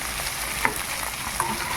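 Fish fat frying in oil on a high gas flame, giving a steady close sizzle with a couple of sharp pops.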